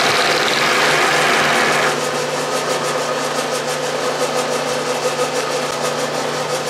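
A 6-inch Atlas lathe takes a light final cut with a high-speed steel cutter, a steady close-up machine hum with a fast, even ticking rhythm running through it, slightly louder at the start.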